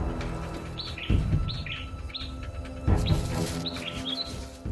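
Bird chicks call from their nest in short, high, repeated chirps in small bursts, close and clear against a low rumbling background.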